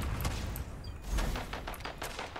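Rapid bursts of automatic gunfire from a heavy-recoil gun in the shooter game Rogue Company, a close, crackling series of shots with short pauses between volleys.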